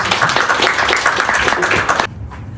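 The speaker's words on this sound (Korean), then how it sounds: "큰 박수 부탁드리겠습니다." Audience applause at a university course workshop, a dense wash of many hands clapping steadily for about two seconds, then stopping abruptly and leaving quiet room tone.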